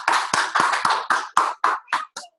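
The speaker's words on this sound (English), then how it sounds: "Everybody gave William a big applause." A small audience at a children's science presentation claps for the presenter, about ten distinct hand claps in a quick, slightly uneven rhythm that slow and thin out before stopping.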